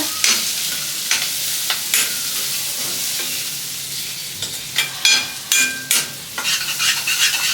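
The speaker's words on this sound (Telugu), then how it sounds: "ఇప్పుడు పసుపు వేసిన తర్వాత నేనైతే ఒకసారి కలుపుకుంటున్నాను అన్నమాట." Poha (flattened rice) with turmeric is stirred in a hot pan, a steady frying sizzle broken by scraping strokes that come closer together and grow louder toward the end, with no voices.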